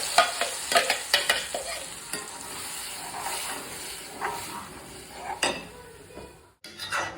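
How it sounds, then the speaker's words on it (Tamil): Ground pineapple and tomato paste with cashews being sautéed in a pan: a spoon scrapes and stirs in irregular bursts over a soft sizzle, with occasional clinks of metal on the pan. "வறுத்துட்டு நம்ம இந்த அரைச்சி வச்ச பைனாப்பிள் தக்காளியை இதில் கொட்டி வதக்கலாம்"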